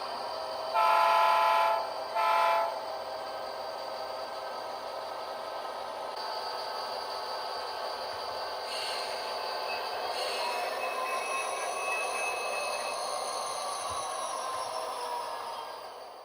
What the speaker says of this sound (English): Now let's run some trains.